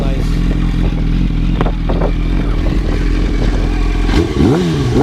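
A 2007 blue Yamaha R1 motorcycle engine runs close by with a steady, loud rumble and a brief rising rev near the end.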